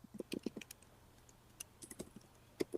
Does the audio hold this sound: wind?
no